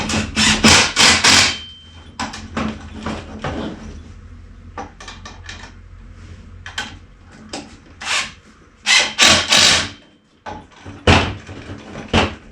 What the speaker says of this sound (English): Hold the screw in place and just use a little impact right there.